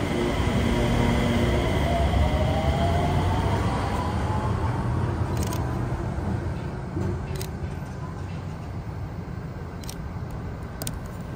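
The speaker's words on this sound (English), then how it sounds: "I see the train already coming." A Sengkang LRT train pulls into the platform, its rumble and rising whine strong at first and slowly fading as it slows, with a few faint clicks near the end and no talk.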